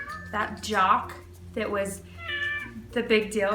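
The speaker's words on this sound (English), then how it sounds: "sorry, that's my cat." A pet cat meows repeatedly nearby indoors, drawn-out wavering cries that overlap and alternate with a person talking.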